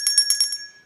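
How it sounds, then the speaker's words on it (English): A bright notification bell chimes in about five quick, rapid metallic dings that ring out and fade after roughly half a second, loud and clear with nothing else behind it. "don't forget to hit the notification bell"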